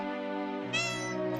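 A cat in the Harvest Moon: Boy & Girl video game gives a single short, clear meow that rises sharply partway through, heard close with nothing else over it.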